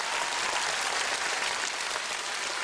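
Sustained applause from an audience at a music awards ceremony, a dense wash of clapping from a large crowd, steady and fairly loud throughout.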